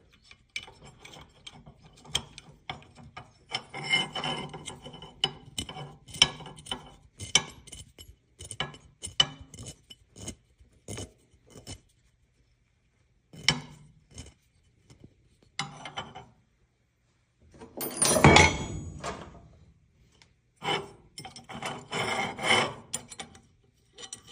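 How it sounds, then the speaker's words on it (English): A hand tap is threaded into a Weber IDF carburetor, giving close, uneven bursts of ratcheting, rasping clicks separated by short pauses. "hand thread it in to the original threads"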